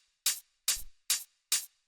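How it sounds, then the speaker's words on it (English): Four crisp, short hi-hat sample hits play in an even pulse, each a bright noisy tick that decays quickly into silence. The sample sounds dry, close and isolated, with no talk over it. "It's just a regular, straightforward hi-hat."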